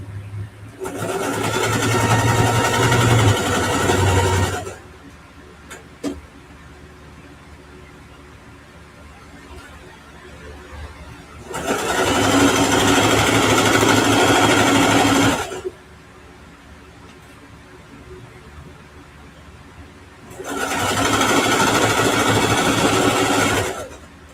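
Home sewing machine stitching a quilted ruffle backpack, running in three long steady bursts of several seconds each with quiet pauses between, loud and close.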